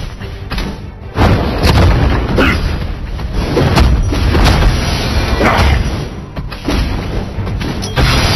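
Heavy booms and thuds as a turret is destroyed in the video game Marvel Super War, loud repeated impacts layered with mechanical clanks and crashes in busy, dense bursts.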